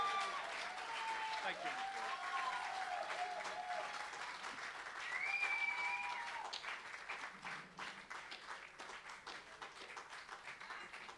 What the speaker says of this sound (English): I want you all to give him a big round of applause.